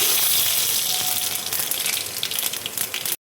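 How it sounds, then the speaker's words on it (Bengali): Dried red chillies and panch phoron spices sizzling in hot oil, a loud bright crackling hiss that holds steady, then tapers slightly before cutting off abruptly at the end. "শুকনো লঙ্কা দেখো আমি ফোড়ন দিয়ে দিচ্ছি, পাঁচফোড়ন দেখো দিয়ে দিচ্ছি"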